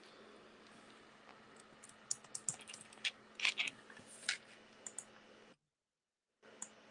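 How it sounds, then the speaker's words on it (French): Quiet, close clicking of computer keyboard keys as text is typed, irregular taps in short bursts over faint room hum, then a brief silence and a final keystroke. "je tape mon texte ici."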